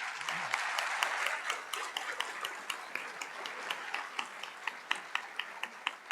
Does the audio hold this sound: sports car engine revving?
no